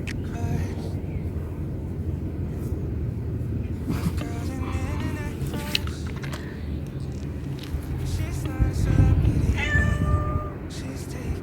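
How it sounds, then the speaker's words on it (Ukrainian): A pet cat meows in a home kitchen during dinner preparation, several short meows scattered through the stretch against cooking clatter and background noise, with faint voices at times. "Такий вредний нас котик, який дозволяє собі залазити на стіл."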